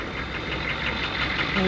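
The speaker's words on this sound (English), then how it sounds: "It takes a while for the engine to warm up" A low, steady idling of a Chevy M1028 CUCV military turbo diesel dually truck warming up in snow, a constant rumbling hum, close by and unchanging.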